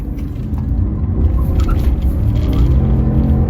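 A rare manual-gearbox Porsche Panamera S V8 with rear-wheel drive slides sideways, its engine a steady loud low rumble with road roar that swells slightly as the car holds the slide.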